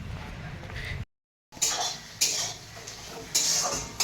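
Pots, pans and cutlery clatter in a home kitchen during Sunday morning cooking, with a brief silence followed by repeated clinks and scrapes close by, and faint voices in the background.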